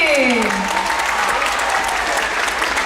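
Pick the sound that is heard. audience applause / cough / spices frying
audience applause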